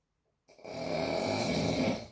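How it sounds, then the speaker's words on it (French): A dog with a past nasal trauma snoring in its sleep, one long, loud, rasping inhaled snore close to the listener after a brief silence. "Alors il a le droit de ronfler."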